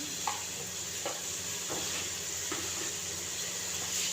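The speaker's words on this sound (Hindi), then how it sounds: "मीडियम फ्लेम पे हम इसको फ्राई करेंगे ताकि हमारे जो प्याज लाइट ब्राउन फ्राई हो जाएं" Spiced onions fry in a pan over medium flame, with a steady soft sizzle and hiss running throughout and a few faint stirring clinks, no voices.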